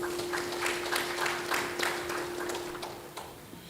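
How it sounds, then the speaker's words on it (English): A small audience at a climate and extractive-communities panel gives a brief round of clapping, sparse individual claps thinning out over a few seconds, with a steady electrical hum beneath. "Round of applause, please."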